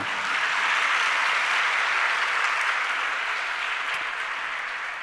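Sustained applause from a large audience at a Jain religious discourse gathering in Tilwara Ghat, steady dense clapping throughout, fairly loud and even with no talk over it.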